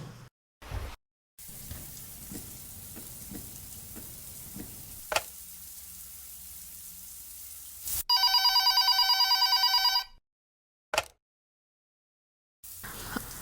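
A telephone bell rings loudly in a steady electronic burst for about two seconds, following quiet kitchen-like frying and clinking, then drops to silence with a brief click.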